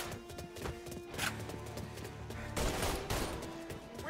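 Gunfire in the Mafia video game: several sharp shots and short bursts ring out at moderate loudness over background game sounds, with no talking.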